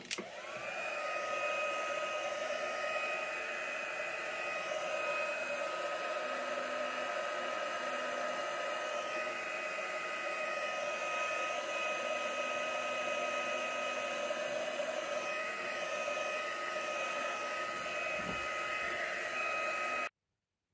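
A hair dryer drying acrylic paint on a tree painting, a close, steady whooshing roar that holds unbroken for about twenty seconds and then cuts off abruptly.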